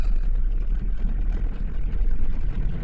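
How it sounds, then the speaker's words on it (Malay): An Isuzu D-Max diesel engine idling with its belt removed, a steady low rumble that stays even and fairly close, with no speech over it. "Bunyi engine tidak terlalu kuat."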